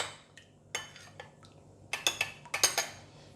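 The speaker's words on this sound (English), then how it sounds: "Mix all the wet ingredients first." Honey, onion oil and other wet char siu marinade ingredients are stirred together in a bowl, giving a run of close, bright clinks and taps of a utensil against the bowl that come in quick clusters toward the end.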